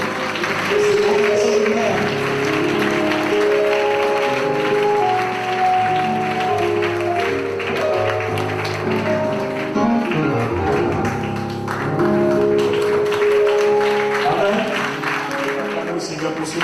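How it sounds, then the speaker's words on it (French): A church congregation in Abidjan claps along to loud, steady music, with rhythmic hand claps blending into the worship sound while a voice briefly speaks over it. "we clap our hands"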